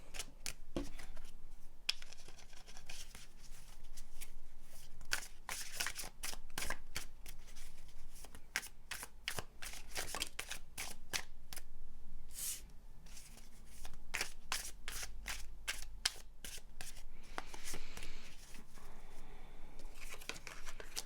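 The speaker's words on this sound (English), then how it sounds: "let's just take out some cards for you" A tarot deck is shuffled by hand close up, giving a continuous run of quick papery riffles and card slaps in irregular bursts for about twenty seconds, with no talking.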